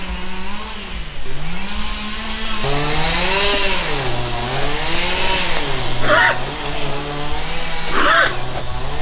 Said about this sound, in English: So if you hear the chainsaw in the background,